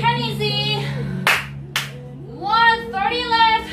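Two sharp, close hand claps ring out during a squat workout, spaced about half a second apart, set between stretches of a person's sing-song counting voice.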